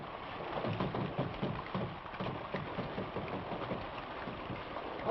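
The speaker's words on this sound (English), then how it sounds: "Holy smokes, it's raining." Steady rain falls outdoors in a Western setting, a dense, continuous patter with a softly rumbling wash and no break through the whole span.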